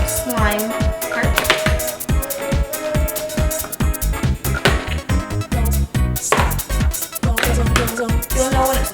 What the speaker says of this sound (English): This is where it gets a little hard to stir because it's getting to its slime part.